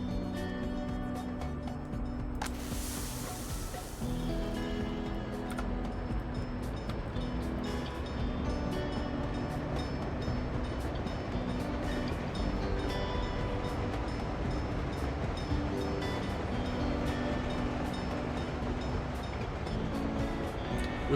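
A loaded freight train in the city-building game Workers & Resources rolls past with a continuous rumbling, clanking rail noise, steady throughout, with a brief hissing burst near the start and no voices.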